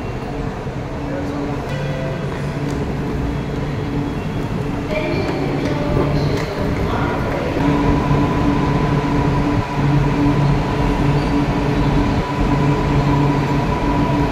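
A Chennai Metro train runs, heard from inside or on the platform, a steady rumbling drone with rising electric whine and occasional clunks, holding loud and close throughout.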